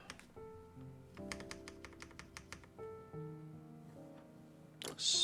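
Keys are struck one at a time on a newly built Frog TKL mechanical keyboard, giving quiet, separate clacks with a quick run of taps in the middle and a louder clatter at the end, under soft background music.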